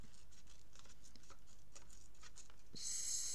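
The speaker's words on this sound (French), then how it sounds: "On va redéchirer." Paper is torn slowly by hand for a scrapbook album craft, producing a quiet run of soft, crackly rips close by.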